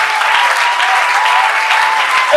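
A church congregation applauds, steady dense clapping from a crowd, loud and sustained throughout with no pause.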